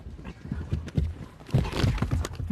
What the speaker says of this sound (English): That effortless communication between horse and rider are what Brianne and Logan are known for.